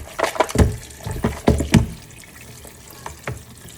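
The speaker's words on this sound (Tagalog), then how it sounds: "Hugasan ko lang para matanggal yung alat." Dried fish rinsed under running tap water: close, splashy gushes and drips come in quick bursts, then ease into quieter trickling.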